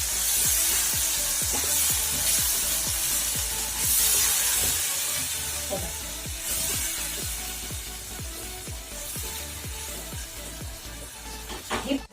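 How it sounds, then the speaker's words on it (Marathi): Tomato puree for matar paneer frying in hot oil, a steady loud sizzle with crackling and repeated scraping stir strokes throughout, no voices. "ही टॅमॅटो प्युरी टाकूया आपल्याला तेल सुटेपर्यंत जरा भाजून घ्यायचं आहे"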